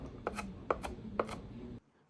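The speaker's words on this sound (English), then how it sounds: "We'll chop some garlic and some shallots." Knife chopping garlic and shallots on a cutting board, three evenly spaced crisp double knocks at close range, quiet, then stopping.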